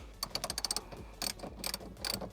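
A ratchet tightens the seat jacker bolts on a Toyota 4Runner in short bursts of sharp, close clicking, three quick runs separated by brief pauses, with no talking.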